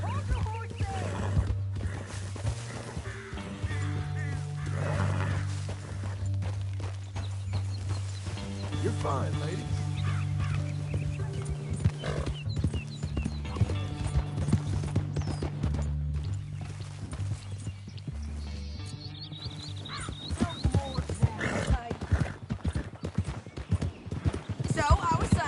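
Horse hooves clip-clop steadily beneath ongoing conversation and a soft musical score in Red Dead Redemption 2, with a possible brief whinny mixed in.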